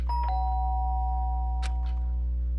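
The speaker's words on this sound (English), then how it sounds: "the sound of the doorbell forced its way into my room." A doorbell chime in the Danganronpa video game rings with two clear sustained tones, then a pair of brief soft knocks or taps, over a low steady hum.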